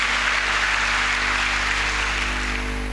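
An indoor church congregation claps after a prayer, a dense even wash of applause lasting the full three seconds under a steady low hum, with no speech.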